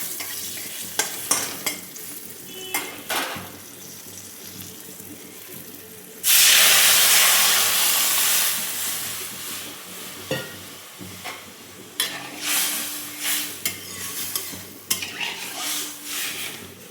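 Dal tempered with salt, turmeric and slit green chillies in a pan: sudden loud sizzle and hiss that fades slowly, with scattered clinks and stirring scrapes of pots before and after.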